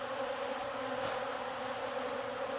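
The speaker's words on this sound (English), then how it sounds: "There's so many bees in here" A dense, steady drone of honey bees packed inside an opened beehive, loud and close, an unbroken buzzing hum with no voices.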